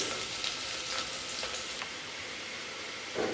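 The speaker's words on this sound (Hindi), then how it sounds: "अब मैं इसमें शामिल करूँगी प्याज, और प्याज की करूँगी मैं भुनाई, यानी कि हम इसको लाइट ब्राउन करेंगे।" Chopped onions sizzle steadily in hot ghee in a pan, a close, even crackling hiss with small pops throughout.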